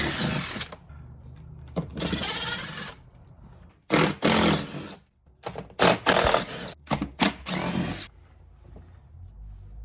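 A power tool runs on a 10mm bolt at a Jeep Gladiator mirror harness, whirring in several separate bursts of varying length with short gaps between them, up close and loud, with no talking.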